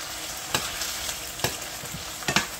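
Venison meat and egg stirred in a frying pan for aporreado de venado, a steady sizzle broken by a few sharp scrapes of the utensil against the pan.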